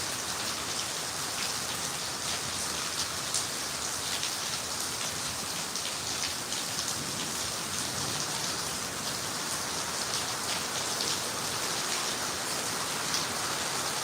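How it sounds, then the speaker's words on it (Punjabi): Heavy rain pours steadily, a dense, even hiss of drops on surfaces that holds unchanged for the whole stretch, with no voices. "ਮੀਂਹ ਬਈ ਪੂਰਾ ਫੁੱਲ ਆਗਾ"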